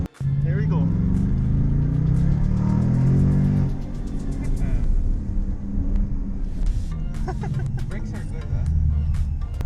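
A 2022 Shelby GT Premium accelerates hard in first gear, its engine rumbling and rising in pitch for a few seconds before easing off, heard from inside the car with people talking over the drone.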